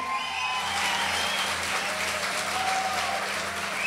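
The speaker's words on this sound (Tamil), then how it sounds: "உற்சாகமான கைத்தட்டலோடு அழைக்கிறேன்" An audience at a Tamil Women's Day stage debate claps steadily and enthusiastically to welcome a comedian onto the stage, a continuous wash of applause with no talk over it.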